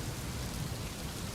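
Steady, dense rainfall, a continuous broadband patter with a soft low rumble underneath, even and unbroken throughout.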